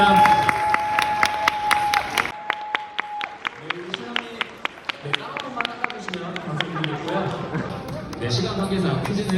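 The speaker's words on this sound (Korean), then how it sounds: "박수 부탁드리겠습니다." Applause from wedding guests, a dense clatter of many hands clapping that swells and continues, with voices mixed in.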